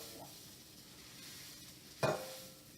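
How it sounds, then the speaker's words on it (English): A single short scrape of fried rice being pushed out of a wok into a bowl, a brief burst at close range against a faint kitchen background. "we're going to scrape this right in the bowl"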